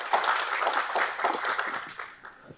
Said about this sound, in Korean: 여러분의 큰 환영의 박수로 맞이해 주시길 바랍니다